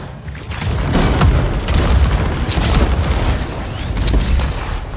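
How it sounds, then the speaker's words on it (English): Explosions boom in a firefight in the Anthem video game, one blast after another in a loud, dense barrage that fills the whole stretch with no pause. "Oh, explosions everywhere."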